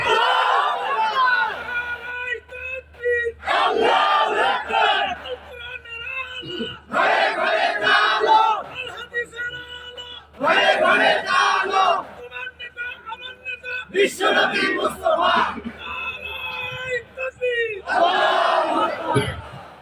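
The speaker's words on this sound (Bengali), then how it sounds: "যুবকেরা বলিষ্ঠ কণ্ঠে ওমরের অনুসারী হয়ে একটা তাকবীর দাও, লিল্লাহি তাকবীর।" A crowd of young men at a religious gathering chants the takbir in loud, forceful bursts of shouting, several waves of massed voices separated by short pauses.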